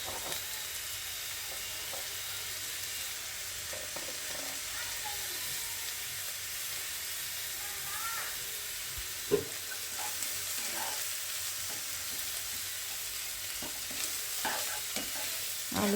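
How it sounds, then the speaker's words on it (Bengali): Mashed boiled potatoes with turmeric and chili powder frying in a pan, stirred with a steady soft sizzle and a few scraping clicks of the spatula, continuous and close. "আলু দিয়ে ভালো করে নেড়ে মিশিয়ে নেব"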